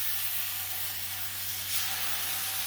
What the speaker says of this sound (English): gonna put the filet right there